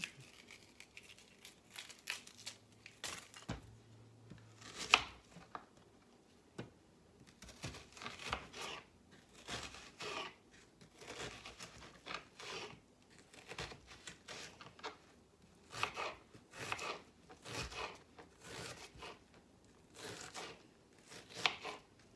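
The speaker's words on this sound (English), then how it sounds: "I need 1 1/4 cups of onion. So we're going to chop that up." Knife chopping onion on a cutting board, a run of crisp, close cuts in quick bursts separated by short pauses, some rustling and crinkling mixed in, with no talk.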